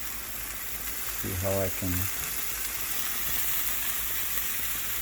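Onions frying alongside a mutton and pork burger patty in a pan, giving a steady, close sizzle throughout while someone talks briefly over it.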